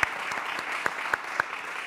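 Studio audience applauding in a brisk burst of many hands, a few louder individual claps popping out above the dense patter, close and continuous throughout.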